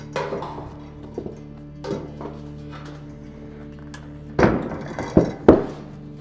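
Metal clunks and knocks from prying a dent out of car body panel with a flat bar and vice grips clamped along the edge, with scattered light taps, then a few louder sharp metallic bangs near the end, close and with no talk.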